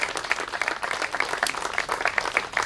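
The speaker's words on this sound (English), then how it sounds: "Can we do a round of applause for our residents?" An audience at the Orem Family Fitness Center groundbreaking ceremony applauds the residents with dense, continuous clapping from many hands, lively and fairly close.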